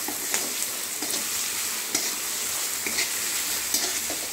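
Onions sizzle steadily in a large pan for chicken yakhni pulao, with repeated scraping clicks from a spatula stirring them every second or so.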